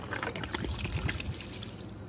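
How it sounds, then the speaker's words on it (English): Diesel fuel trickles thinly from a removed water separator filter on a Vermeer CTX160 mini skid steer, with a few soft slow drips, quiet and close, over a faint steady background hum. "can see a little bit of diesel fuel come out there. You got a slow drip."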